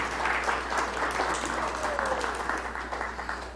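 Church congregation applauding throughout a service, a steady wash of many hands clapping at moderate distance with a few whoops mixed in, continuous and fairly even in level.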